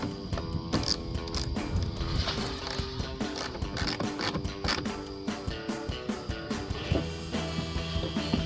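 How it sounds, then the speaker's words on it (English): Screws being tightened by hand during installation of a DFM module on a 2022-2024 GMC Sierra 1500 pickup, heard as a steady run of quick clicking ratchet turns and small metallic taps with no talk. "Once they're all started, you can start tightening them down."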